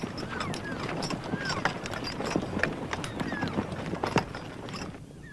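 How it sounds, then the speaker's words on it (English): Horse-drawn sleighs carrying visitors through a snowy winter elk refuge in Grand Teton country, hooves clip-clopping in a steady rhythm at moderate distance over a continuous low rumble, with faint squeaks and jingling. "each winter thousands of visitors ride horse-drawn sleighs to see the elk herd firsthand"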